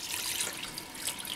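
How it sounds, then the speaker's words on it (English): Cold tap water runs steadily over a raw flattened chicken in a kitchen sink, a continuous close hiss of splashing water with no break. "So, good wash in cold water."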